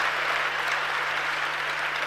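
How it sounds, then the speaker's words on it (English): A youth audience at a Springboard-Ghana CARES dialogue session claps in a steady, dense wash of applause that stays even over a faint background hum. "So let's clap again for ourselves."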